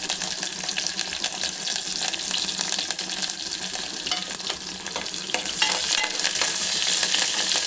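Dried red chili, sliced onion, garlic and curry leaves fry in a pan with a steady, dense sizzle that grows slightly louder toward the end, with occasional stirring clicks and no voices.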